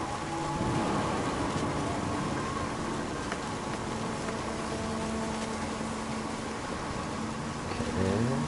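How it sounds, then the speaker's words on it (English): Steady rain hisses throughout a dense, rumbling storm in What Remains of Edith Finch, with a low thunder roll underneath and faint tonal music above. "The thunder sounded much too close and full of angry power."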